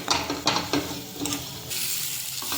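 Pav bhaji masala and Byadgi chilli powder roasting in a pan: a close, loud sizzle with several scraping stirs in the first half, then a steadier hiss.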